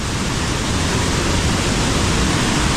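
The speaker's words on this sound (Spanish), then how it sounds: "¡Wow! La fuerza que tiene el agua. Se escucha el ruido tremendo." Powerful rushing water at Puente de Dios in San Luis Potosí, Mexico: a loud, dense, unbroken roar filling the whole clip, close and steady, with no voices over it.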